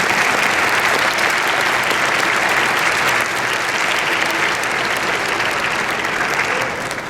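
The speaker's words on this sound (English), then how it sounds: "give a warm round of applause to Warren" Dense, loud audience applause at an orchestra event, a continuous wash of many hands clapping for several seconds that eases slightly at the end.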